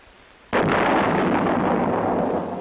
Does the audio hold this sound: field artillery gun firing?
yes